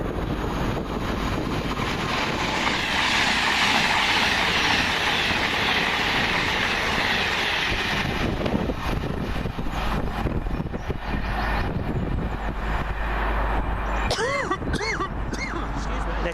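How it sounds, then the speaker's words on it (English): A pair of Super Voyager diesel trains working together from London Euston to Chester roar past loud and close with a sustained rushing rumble, then fade, a short voice heard near the end. "looks like a pair of super voyages on one Delta 86 going from London Euston to Chester"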